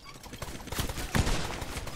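Booming cannon shots in the naval game Blazing Sails, two heavy blasts in quick succession over a dense, noisy battle background.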